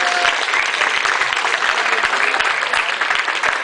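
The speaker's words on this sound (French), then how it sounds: "Merci, on les applaudit encore une fois." Continuous applause for newlyweds at a wedding celebration in Albé, a full, sustained roar of clapping from a sizable crowd with no break.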